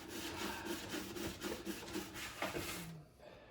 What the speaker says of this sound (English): At this point, we're just gonna apply a little elbow grease and see if any of this stuff is softened up a bit.